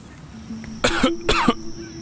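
Two sharp coughs in quick succession from a person in a garage setting, close and fairly loud, over a faint steady hum.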